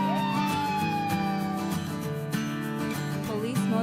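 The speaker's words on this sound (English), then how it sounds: "Fire truck." A fire truck siren wails loudly and continuously, its pitch sweeping up and down over a steady background hum.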